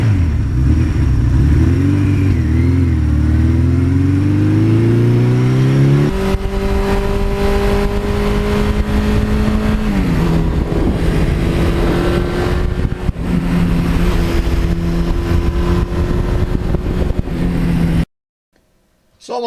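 A 1982 Suzuki GS1100E motorcycle engine revs loudly and close, its pitch climbing, then dropping and holding at several steady speeds before cutting off abruptly near the end.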